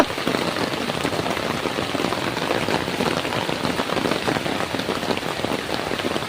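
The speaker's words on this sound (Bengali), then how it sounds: "তো বন্ধুরা জোরদার বৃষ্টি নেমে পড়েছে জোরদার বৃষ্টি" Heavy rain pours down steadily in a dense, unbroken hiss of drops drumming on surfaces, loud and close throughout with no voices.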